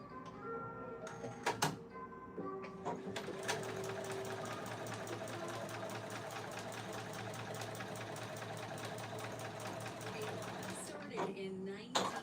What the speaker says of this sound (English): Let's see if I can top stitch this one.